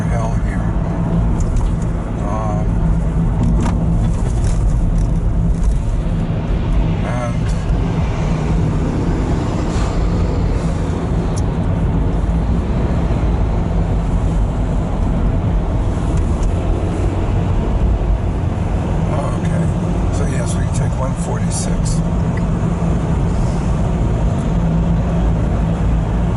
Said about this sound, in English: The traffic is sheer hell here.